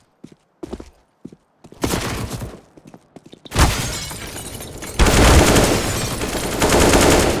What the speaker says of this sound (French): ça tire de Glock non? Ouais. Ouais c'est un Glock ça.